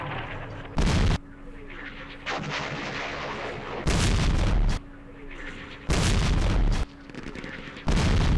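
Artillery guns firing in the Campaign Series East Front war game, four loud, heavy booms roughly two seconds apart, each a sustained roaring burst over a constant rumbling battle background.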